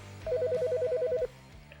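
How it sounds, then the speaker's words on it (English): A telephone ringing with a rapid electronic warble, one loud close burst lasting about a second before cutting off. "Hold on, I got a phone call."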